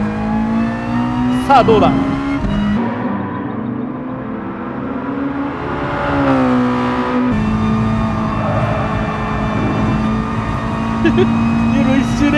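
Race car engines roar around the Nürburgring in Gran Turismo Sport, revving and shifting pitch as cars accelerate and pass close by, with someone talking briefly over the engine noise.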